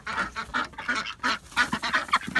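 Backyard ducks quacking in a busy, overlapping flock chorus, close and steady with repeated calls throughout.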